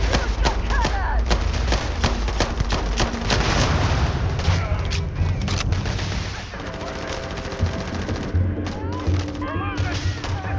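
Spaceship cannons fire in rapid, continuous bursts during a space battle in the video game Starfield, loud and dense booming and crackling that barely lets up, with a droning engine tone underneath later on.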